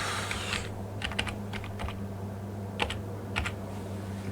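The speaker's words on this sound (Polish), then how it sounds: "Muszę wpisać też pseudonim." Typing on a computer keyboard, quick bursts of key clicks in uneven clusters over a low steady hum, close and moderately loud.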